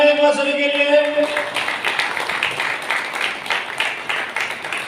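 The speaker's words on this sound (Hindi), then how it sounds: "जोरदार तालियां एक बार सभी के लिए" Applause at the Microtek Luxe inverter launch in a New Delhi hotel: after a brief sustained tone, a crowd breaks into loud, dense clapping that continues steadily to the end.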